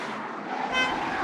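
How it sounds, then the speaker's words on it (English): A car horn blast used in car chase sound design, a short sustained honk rising over a steady background rumble of traffic and engine noise, moderately loud and near. "let's add another car horn maybe right before the cars are about to hit each other"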